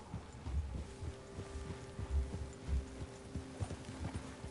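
Rhythmic hoof clip-clops of horses trotting through grass in the video game Red Dead Redemption 2, steady and fairly close, with a faint low hum in the background.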